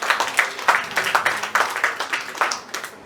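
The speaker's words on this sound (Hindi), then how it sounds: "कृपया इनके लिए ताली" Audience at a literary felicitation ceremony gives warm applause, a steady run of distinct claps from a modest crowd, fairly close and continuing throughout.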